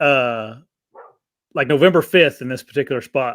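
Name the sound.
dog barking behind a door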